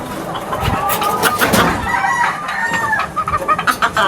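Backyard chickens clucking at afternoon feeding time, a close, loud flock of overlapping clucks and squawks with a rooster crowing among them, ending in quick staccato clucking.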